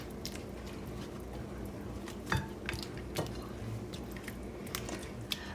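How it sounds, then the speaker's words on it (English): A cheesy rotisserie chicken enchilada mixture is folded and stirred in a bowl, making wet, squishy clicks and scrapes at an uneven pace over low background noise. "we're just gonna fold these in and just give them a stir"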